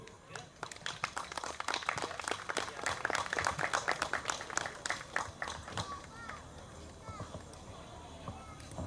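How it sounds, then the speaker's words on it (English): An audience at a Hmong American Day celebration applauds with a faint, dense patter of clapping that swells, then thins out after about six seconds as a speaker begins talking. "give a big round of applause for Dr. Jerry Npliajtub."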